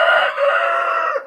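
A rooster crows once, loud and close, in a backyard flock of two roosters and fifteen hens; the call is a single sustained, wavering cry lasting just over a second before breaking off.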